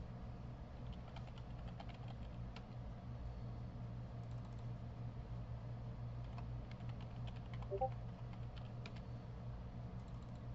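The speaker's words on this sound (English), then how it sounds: "you'll go ahead and you'll type your information in" Login details entered on a computer keyboard, heard as faint, scattered key clicks over a steady low hum of room or fan noise.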